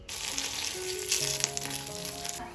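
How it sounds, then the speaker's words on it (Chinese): Ham slices frying in a lightly oiled pan give off a close, steady sizzle with small crackles and a faint tonal hum, with no talking. "先煎火腿片，刷一点点油，放上去煎。"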